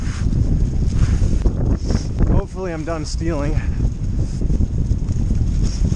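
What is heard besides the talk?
wind blowing on a forest trail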